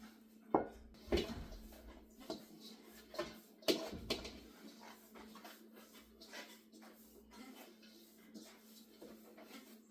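Molasses cookie dough, made with nine cups of flour, is mixed in a bowl, giving scattered soft knocks and clunks against the bowl at an uneven pace, fairly quiet throughout.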